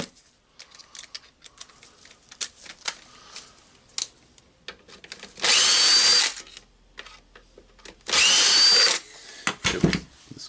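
A power drill fitted with a longer bit unscrews screws from a machine's tool holder in two loud sustained whirring bursts of about two and three seconds, separated by scattered clicks and handling clatter.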